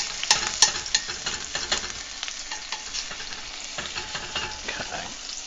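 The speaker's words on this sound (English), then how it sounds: "Don't let your garlic burn." Garlic sizzling and frying in a pan, a steady close crackle with a few sharp stirring scrapes near the start and no talking.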